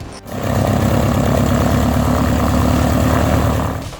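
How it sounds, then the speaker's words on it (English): A steady, loud engine drone runs throughout, an aircraft engine held at a constant setting during an operational check at an aviation maintenance school, starting abruptly after a brief gap and holding even until it fades at the end. "Or performing an operational check on an engine."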